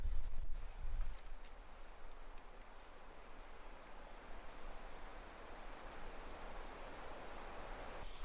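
A creek flows beside a nature trail at Eglin Air Force Base in northwest Florida, giving a steady, broad rushing wash that stays even throughout, with a brief low rumble near the start.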